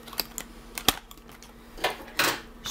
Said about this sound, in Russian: Не хочет она нормально открываться. Сейчас я поддену ножницами,